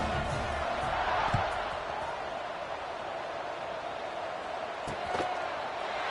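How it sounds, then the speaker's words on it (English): A college football stadium crowd murmurs and buzzes after a score, a broad, steady roar of distant voices with a couple of faint knocks or thuds rising out of it. "this crowd is buzzing after that last score"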